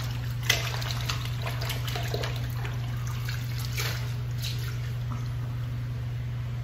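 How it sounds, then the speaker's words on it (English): Water runs and trickles steadily as a straight razor, a Genco Easy Ace, is rinsed after a shave, with soft splashes over a constant low electrical hum and no talking. "let me rinse this off"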